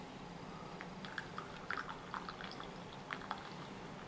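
Small liquid drips and light splashes from puerh tea being poured, scattered irregularly and faint against a steady background hiss, with no talking.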